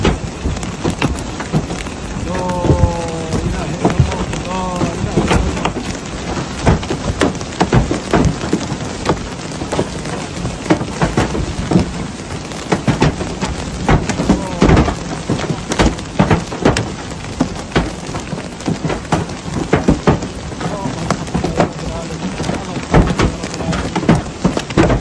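Heavy hail pounds down during a storm in Saudi Arabia, a loud, dense, continuous clatter of impacts that never lets up, with no voices.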